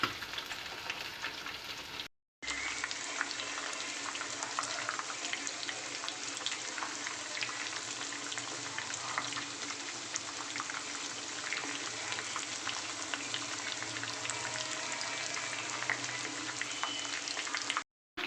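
Chicken leg pieces frying on a medium flame, with a steady, even sizzle and crackle that runs unbroken for most of the stretch after a short gap near the start.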